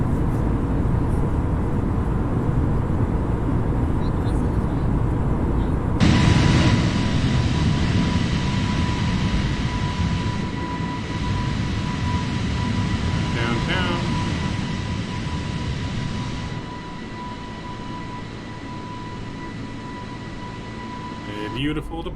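Steady jet engine roar from an Airbus A330-900neo climbing out in a flight simulator, a constant loud drone with a sustained tone that drops and softens partway through, while a voice speaks over it.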